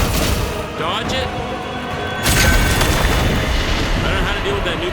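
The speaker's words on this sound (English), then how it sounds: "Now he's gonna do the big explosion thing." Boss in the game The First Berserker: Khazan unleashing a big explosion, a sudden loud booming blast partway through that rolls on amid layered combat noise, with a voice speaking over it.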